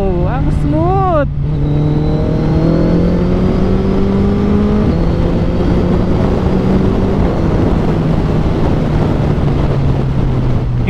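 Suzuki Hayabusa motorcycle engine climbing through the revs with loud, steady harmonic drone and gear shifts, heard close up under constant wind rush; a voice speaks briefly near the start.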